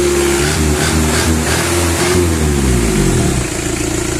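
A C223 turbo engine with manual transmission and 4x4 revs hard, a loud steady roar that rises and falls in pitch over a few seconds before settling lower, close by with no talk over it.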